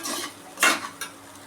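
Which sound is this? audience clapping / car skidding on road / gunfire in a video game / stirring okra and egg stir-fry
stirring okra and egg stir-fry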